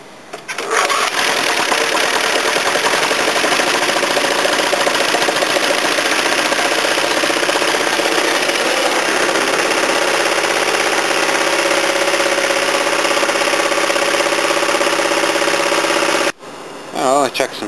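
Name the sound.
old lawn mower engine running and idling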